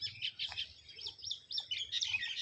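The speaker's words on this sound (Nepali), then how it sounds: "यो चरा चुरुङ्गीहरू कस्तो राम्रो" Small birds chirp and tweet in a hilly countryside spot, quick bright calls in repeated bursts, fairly close but soft, with no talk.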